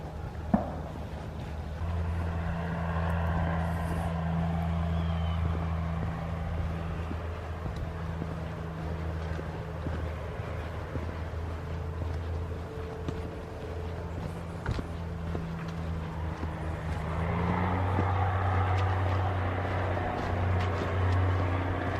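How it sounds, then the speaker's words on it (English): Distant farm tractors working the fields in wooded countryside in late autumn: a steady low engine drone that holds throughout, rising a little near the end, far off and continuous with no talk. "You sure hear the farmer tractors out here."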